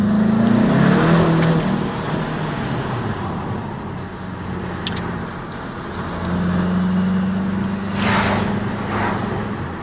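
A car engine runs loudly close by, a low throbbing drone that swells and eases as the revs change, with road noise beneath.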